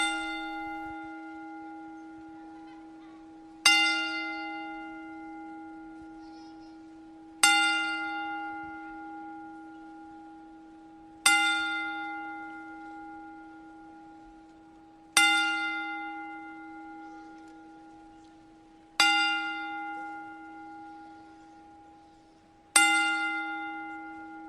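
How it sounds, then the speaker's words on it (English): A ten-bell salute for a wrestling tribute rings out as seven loud, clear bell strikes spaced evenly about four seconds apart, each clang sustaining and slowly fading before the next. "And we'd like to pay our tribute to Sika with a 10-bell salute."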